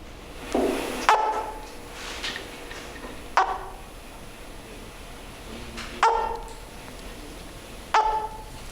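A broad-snouted caiman hatchling calling from inside its egg: a series of short, sharp squeaky yelps or chirps, about five, spaced a couple of seconds apart, close by over a quiet background.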